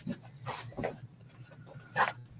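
A dog makes a few short vocal sounds indoors, brief yelps or whimpers in quick bursts, the clearest one near the end, close by and moderately loud.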